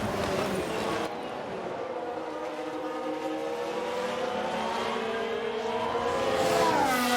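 Racing car engines in a drag race to the line in the F1 Manager 2022 game at Saudi Arabia, a steady high whine with rising pitch sweeps as cars accelerate, louder near the end.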